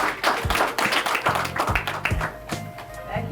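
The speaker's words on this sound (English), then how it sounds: "everybody give the graduates another round of applause" An audience claps for internship graduates at a graduation ceremony, a brief scattered round of applause with some separate louder claps and a voice talking briefly.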